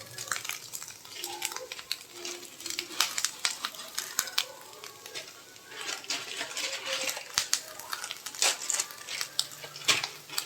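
Noodles cooking in a pan in a home kitchen, giving a faint, continuous sizzle with scattered scraping and stirring clicks, fairly quiet and close.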